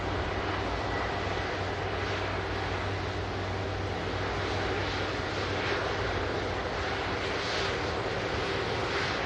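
An Air Transat Airbus A330 that has just landed at Manchester Airport gives off a continuous, loud jet engine roar and rumble. The noise is steady throughout, with no talking.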